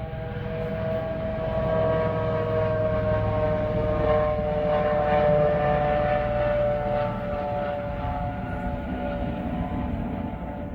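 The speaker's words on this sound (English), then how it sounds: "today it's a police helicopter" A police helicopter flies overhead, a steady, droning rotor and engine hum with a tonal whine that holds throughout at moderate loudness, with no talking over it.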